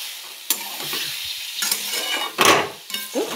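Ground spices stir-fried with a splash of water in a pan, heard as short bursts of hissing sizzle and scraping stirring strokes that come and go, close and fairly loud.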